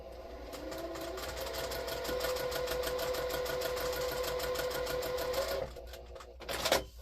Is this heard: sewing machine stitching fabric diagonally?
yes